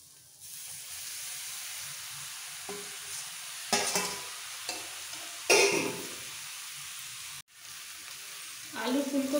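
Mixed vegetables, including potatoes and cauliflower, drop into a pot of lightly fried rice and lentils for Durga Puja khichuri, bringing a quiet hiss with sudden louder bursts of sizzle and stirring scrapes at close range.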